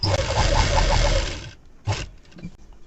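Close, loud whirring rattle of a sewing machine stitching a blouse for about a second and a half, then stopping, followed by a brief handling thump and quiet fabric rustle.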